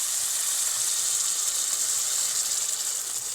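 Water hits hot garlic curry masala in a pan, giving a steady, loud, close hiss of steam and sizzle that holds without a break.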